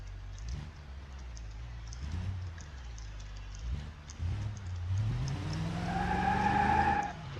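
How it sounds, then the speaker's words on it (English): A cheap Buick Roadmaster in a driving game revs its engine, with tires spinning and a rising whine that climbs in pitch over the last few seconds. The sound is fairly loud and steady, with no talk. "Oh, okay, it's spinning the tires already?"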